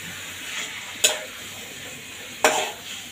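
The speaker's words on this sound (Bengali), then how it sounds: "মুরগি ভাজতেছি" Chicken pieces frying in hot oil in a pan, giving a continuous close hiss broken by two sharp scrapes of a spatula turning them.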